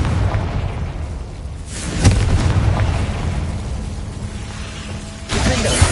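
A Confringo blasting spell goes off in Hogwarts Legacy with a loud, low booming burst and a rumbling tail, followed by a second blast a few seconds later.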